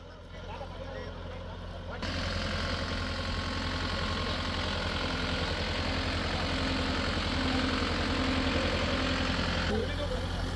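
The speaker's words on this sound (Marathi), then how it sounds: "स्वतः ट्रॅक्टर चालवत शेतात मशागत केलेली आहे" A tractor engine drones steadily and fairly loud while a field is ploughed, rising in level after a short quieter start and holding a constant rumbling idle-like tone.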